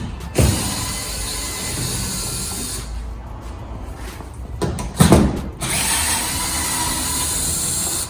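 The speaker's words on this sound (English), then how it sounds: "10 millimeter, most common socket used for all vehicles" A 10 mm socket ratchet loosening bolts on a 2009–2013 Toyota Corolla rear bumper cover: rapid continuous pawl clicking, close and loud, with a short pause and a couple of sharp knocks midway before the clicking resumes.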